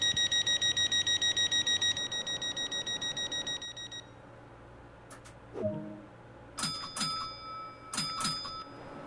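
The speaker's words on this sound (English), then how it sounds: "we'll do the bell and then we'll get an exterior sound" A train bell in Train Sim World 2 rings in a fast, evenly spaced run of bright tones for several seconds, followed by a few separate louder strikes after a pause.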